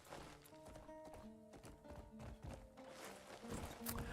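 Horse hooves clip-clop steadily in an open-world video game, a rhythmic run of hoofbeats over a bed of layered game music and ambience, fairly close and even in loudness throughout.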